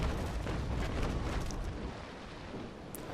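Ship cannons firing in a Naval Action battle between the Rattlesnake and the Niagara, a dense, sustained rumble of booms and blasts with no clear gaps, fairly close and loud.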